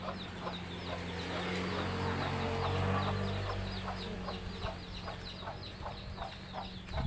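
Chickens cluck repeatedly in short, evenly spaced calls over a low steady hum, fairly close, with no one speaking.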